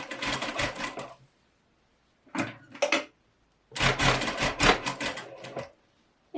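A sewing machine stitching dart tucks on a collarless Viola top, running in loud close bursts of rapid needle clatter separated by brief pauses, with no talking.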